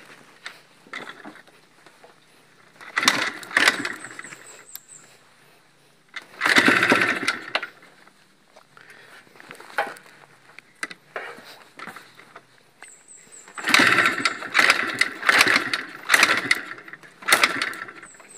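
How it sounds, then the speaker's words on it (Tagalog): A motorcycle engine is cranked over and over without catching, giving several bursts of sputtering, mechanical churning separated by quieter pauses, close by. "Paandarin ko muna yung motor."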